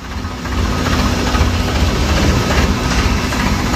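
A tractor engine runs at a steady low rumbling idle with knocking vibration while turning in a tight space on a work site, loud and close, no talk over it.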